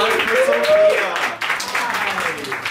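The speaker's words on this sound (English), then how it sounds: "We're gonna round of applause for Sophia." A small audience at a children's arts presentation claps for about three seconds in a loose, brief round of applause, while voices talk over it.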